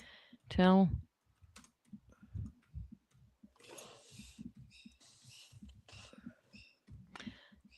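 Light, irregular tapping of keys on a computer keyboard clatters in short clusters, preceded by a brief loud tone and mixed with quiet background movement.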